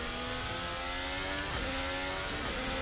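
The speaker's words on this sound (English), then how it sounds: "Let's keep the engine turned up now" A Toyota Formula 1 car engine in a racing video game howls at high revs, a steady, loud, close whine with shifting pitch and no voices over it.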